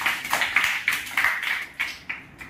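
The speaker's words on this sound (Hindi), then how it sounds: "चलो पवन के नाम की ताली लगाओ सभी बच्चे" A group of schoolchildren in a classroom claps for their classmate Pawan, giving about ten sharp, fairly even claps that are close and clear, with no talk over them.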